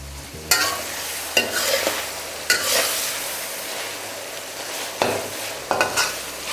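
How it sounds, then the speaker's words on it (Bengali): Onion and chicken fry in oil with a constant sizzle, broken by several loud stirring scrapes of a spoon against the pan, close and without talk. "পেঁয়াজটা আস্তে আস্তে তেলের মধ্যে ভালো করে ফ্রাই হওয়া শুরু করবে"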